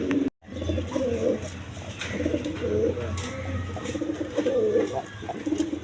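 A male Bombay pigeon coos in repeated throaty rolling phrases near at hand, set against a soft steady background hum, after a brief dropout at the start.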